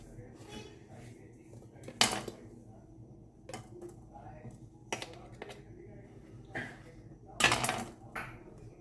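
Kitchen knife cutting through potato dough against a plate, giving a few sharp scraping clicks and knocks at irregular intervals over low background noise, with faint voices in the room.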